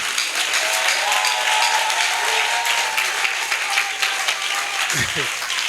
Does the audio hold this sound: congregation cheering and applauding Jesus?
yes